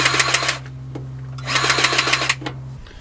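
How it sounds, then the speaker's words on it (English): An empty Milwaukee cordless grease gun pumps with no grease in it, giving two bursts of rapid, rattling mechanical clatter over a steady motor hum that cuts off at the end. "I'm a really big fan of my Milwaukee grease gun, but as it turns out, it does not pump when there's no grease in it"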